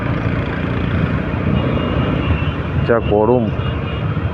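A slow line of vehicles crawls uphill on the hot road toward Kurseong, a steady, loud engine drone throughout, with a brief spoken remark partway through.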